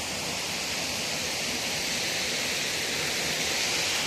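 Water pours and rushes steadily at Mukkha waterfall, a dense broadband roar that stays constant and fairly loud throughout, with no voices over it.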